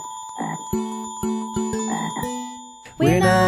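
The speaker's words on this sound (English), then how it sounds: "It's a frog." A frog croaks in several loud, close, rhythmic bursts with tonal ringing calls between them, standing alone without any talk.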